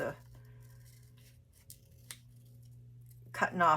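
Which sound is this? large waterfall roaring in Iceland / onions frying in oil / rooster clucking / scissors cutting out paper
scissors cutting out paper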